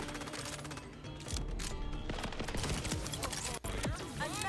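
A turret firing in Borderlands, a dense, continuous barrage of rapid gunfire shots layered with game music and effects, loud and close throughout with a brief dropout near the end.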